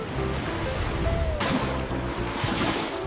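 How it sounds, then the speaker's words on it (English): A big ocean wave breaks off Hawaii where a surfer rides, a steady roar of surf swelling into a louder wash midway and continuing under wind noise. "The wave is very big."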